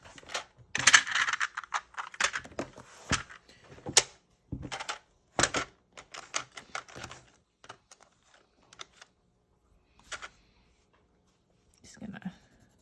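Colored pencils, Koh-I-Noor Progresso woodless pencils, swatched on black sketchbook paper, giving scratchy strokes and taps in bursts that thin out into sparse scrapes, close and moderately loud.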